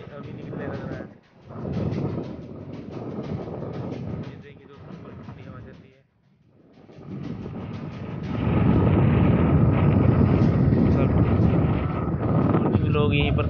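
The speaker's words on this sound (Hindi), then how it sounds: "देखिए कितनी ठंडी हवा चल रही है।" A cold morning wind blows hard across the microphone with rough, rumbling gusts that rise and fall, drop out briefly, then build to a heavy steady roar, with someone talking over the first half.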